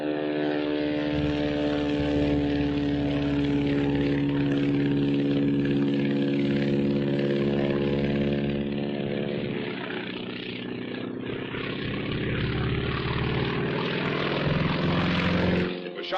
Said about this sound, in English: See that plane? Climbing to heaven like a skyrocket?